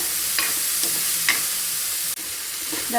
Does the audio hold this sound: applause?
no